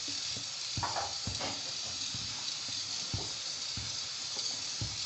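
Spoon scraping and stirring through thick carrot kheer made with milk and rice as it simmers in a pot, with faint soft knocks over a low steady bubbling hiss.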